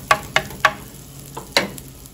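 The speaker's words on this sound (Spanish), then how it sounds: "Ya que el arroz se frió" Rice frying in a clay pot: a spoon scrapes and stirs in several sharp strokes, some quick and some spaced out, over a faint sizzle.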